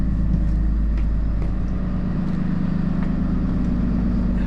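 The engine of a 2017 Jayco Seneca RV runs at raised RPM with a loud, steady low drone and a pulsing rhythm, heard up close and without talk.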